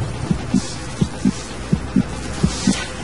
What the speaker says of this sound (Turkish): Kalp sesleri de beni rahatsız etmeye başladı